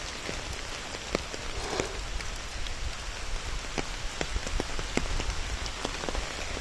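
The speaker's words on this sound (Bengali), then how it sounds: "মানে বৃষ্টির সাউন্ডটা আমার এত বেশি ভালো লাগে" Rain falling outdoors, a close continuous patter with many distinct drops striking a surface nearby, steady and fairly loud with no voices.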